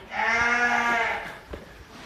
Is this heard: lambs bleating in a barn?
yes